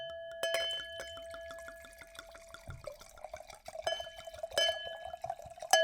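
Liquid is poured close up from a bottle, a soft trickle with bright drips and gurgles that swells toward the end in a quiet setting.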